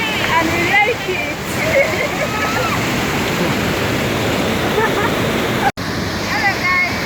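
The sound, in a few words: Aruu Falls waterfall, Uganda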